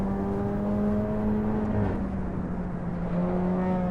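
Car engine in the Assetto Corsa racing game on the Nordschleife, a steady droning whine with harmonic bands that dip and climb as revs shift, loud and alone without talk.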